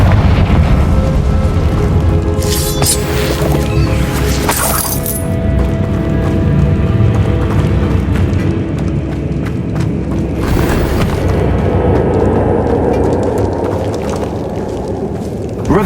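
A Confringo blasting spell explodes in the video game Hogwarts Legacy: a loud, sustained rumbling blast with bursts of crumbling, shattering debris over a continuous roar, no speech.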